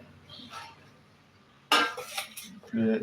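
A mixing bowl for marble sponge cake batter is taken out, giving two distinct clattering bursts of dish and utensil contact after a quiet stretch, with faint voice in the background.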